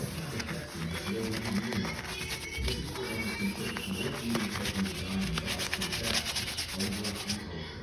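A dirty area is scrubbed clean by hand in a steady, close rubbing rhythm of repeated back-and-forth strokes, continuing without pause.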